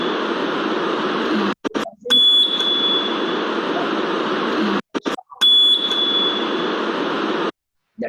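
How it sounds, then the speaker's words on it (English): A loud, harsh buzzer alarm drones in long bursts with brief gaps, used for a conditioned avoidance response test on a laboratory animal; the rasping tone fills the space and cuts off abruptly. "Now, conditioned avoidance response, we will be giving the buzzer alarm."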